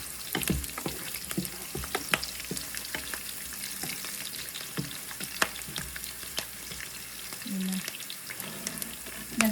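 Garlic frying in a pan for Filipino garlic fried rice with chicken, a steady close sizzle broken by occasional clinks and scrapes of stirring, with brief other kitchen noises near the end.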